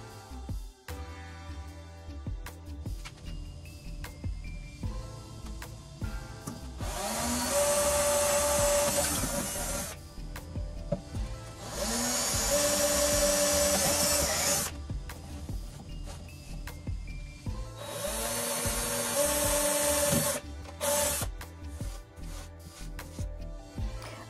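A power drill whirs in three sustained bursts of a few seconds each, drilling holes in a wooden dresser drawer, separated by quieter handling sounds, close by.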